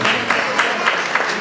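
Audience applause at a copla performance, a dense, continuous clapping from a crowd with a few sharper peaks, loud and sustained throughout.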